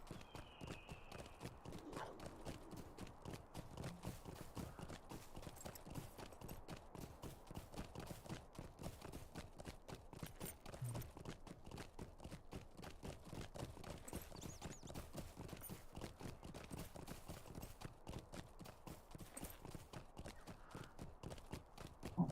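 Steady clip-clop of horse hooves at a run in the online fantasy game Lord of the Rings Online (LOTRO), a continuous rapid rhythm held at an even level throughout, with faint ambient game sound beneath.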